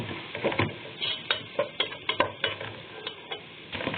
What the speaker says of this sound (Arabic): حبه كركم صغيرين مش كتير، تقليبه حلوه بقى كده